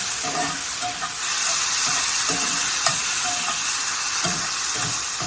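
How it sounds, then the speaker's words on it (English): A pan with mushrooms and shallots is deglazed with white dry wine, sending up a loud, dense sizzle and hiss with light stirring scrapes, steady throughout and unaccompanied by speech. "we're going to deglaze the pan"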